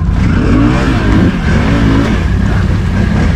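Can-Am Renegade 110 youth ATV, a 2023 model, revving hard during wheelie riding, its engine note rising and falling in a loud, continuous drone close by with no talk over it.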